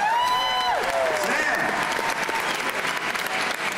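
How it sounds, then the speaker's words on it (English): An audience bursts into steady, dense applause with some cheering and a few whistles, loud and sustained throughout. "Please, a big round of applause for Sam Thompson, everyone."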